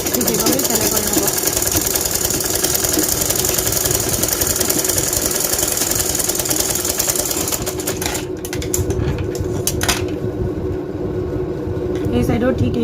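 A sewing machine runs steadily while stitching a lehenga blouse, a close mechanical whir and rapid needle chatter, slowing near the end as someone speaks over it.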